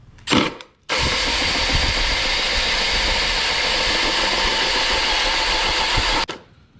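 A power drill bores steadily through the plastic air intake box of a Mini Cooper S, one continuous loud whine of about five seconds after a brief short burst, then stopping abruptly.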